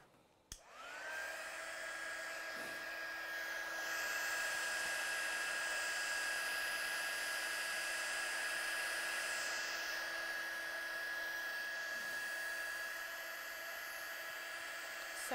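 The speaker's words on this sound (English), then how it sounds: "I'm going to dry it off with the heat gun" Heat gun blowing hot air over a stamped watercolour card, a steady close whirring hum with a constant high whine that runs unbroken for the whole stretch after a quick click on.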